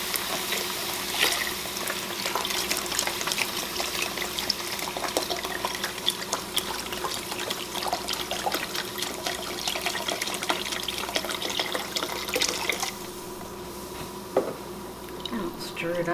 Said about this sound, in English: Now we want to add our broth. And we want 8 cups.